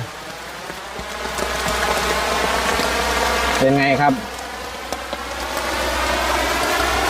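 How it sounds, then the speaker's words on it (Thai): Heavy rain pours steadily on a road in Khao Kho, Phetchabun, a dense loud hiss throughout, while someone speaks briefly over it and a short tonal sound rises midway. "โอ้ยฝนตกแรงมากทุกคน"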